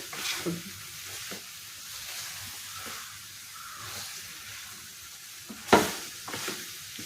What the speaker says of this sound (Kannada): ಸ್ವಲ್ಪ ಚೆನ್ನಾಗಿ ಹುರಿದು ಮಸಾಲೆ ಎಲ್ಲ ಚೆನ್ನಾಗಿ